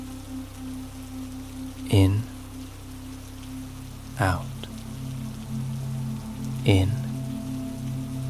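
Rain patters steadily on a garden greenhouse during a storm, a soft, constant wash under a low hum, while a calm voice speaks a few slow words at spaced intervals.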